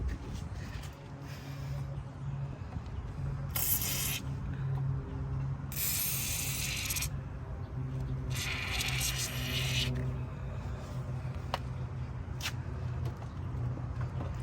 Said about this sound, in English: I'm gonna just use some WD-40 right here